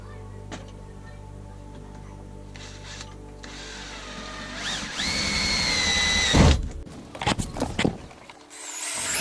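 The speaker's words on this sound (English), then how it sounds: "So got the spade bit here to do the counter bore" A spade bit in a power drill bores a counterbore into a wooden support frame for a camper van bed, a close, steady whirring drone that bites harder toward the end, with knocks and a brief pause.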